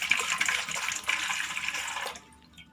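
Water is poured from a container into an idli cooker, a steady splashing trickle that runs for about two seconds and then stops.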